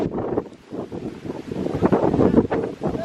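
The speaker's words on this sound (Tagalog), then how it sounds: "Very, very windy." Strong wind blasts across the microphone outdoors on an ATV outing in the Philippines, a loud continuous gusting roar that rises and falls, with no clear speech.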